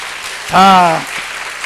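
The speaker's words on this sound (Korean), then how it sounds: "자, 박수로 우리 하나님께 영광 돌립시다" A church congregation claps to give glory to God during a sermon, a soft, even patter of hands filling the moment as a single voice rises briefly and loudly above it before fading.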